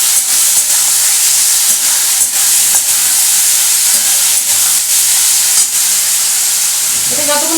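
Shrimp fry hard in hot oil in a pan for a Bengali okra-and-prawn masala, giving a loud, steady, hissing sizzle that runs unbroken, with faint stirring in the background and no talk.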